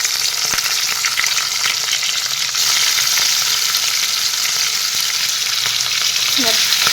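Koi fish pieces frying in oil make a loud, constant hissing sizzle with a dense crackle that holds steady from start to finish, without any voices.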